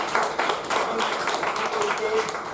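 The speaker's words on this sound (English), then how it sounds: "it deserves a big round of applause" Applause from a small meeting audience for a speaker who has just finished a first speech, dense steady clapping close by with a voice partly over it.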